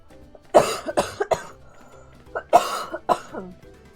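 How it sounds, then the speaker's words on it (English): A person close to the microphone coughs in a burst of several rough coughs, pausing briefly and then coughing a few more times. "I'm just gonna cough once, and then it's like, nope. Lots of coughs, apparently."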